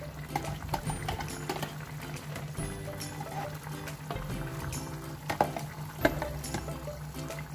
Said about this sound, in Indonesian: kemudian kita masak sampai kuahnya menyusut